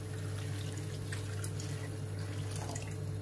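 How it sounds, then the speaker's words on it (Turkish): Water poured into a pot of rice, a soft continuous trickle with scattered splashes, under a steady low kitchen hum. "Suyumu ekliyorum."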